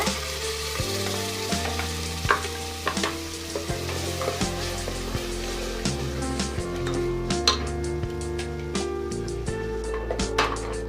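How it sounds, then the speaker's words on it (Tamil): Ground onion and tomato paste frying with ginger garlic paste in a pan for a country chicken curry, with a steady crackling sizzle and occasional stirring clicks running under tonal background music throughout. "இதோட அரைச்சி வச்சுருக்க வெங்காயம் தக்காளியும் இதில் சேர்த்து வதக்கிக்கலாங்க"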